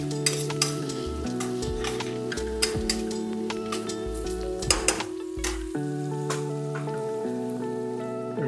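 Onions fry in a pan with turmeric and salt, sizzling steadily as a utensil scrapes and stirs in repeated strokes and clinks against the metal. Faint steady tones run in the background.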